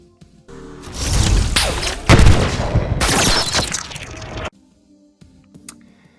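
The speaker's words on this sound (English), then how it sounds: "These two sounds remind me of the sniper rifle, and then the second one sounds like maybe a needle rifle." Halo Infinite sniper rifle and needle rifle shots, heard as loud bursts of booming, crackling fire over several seconds, ending abruptly in near silence.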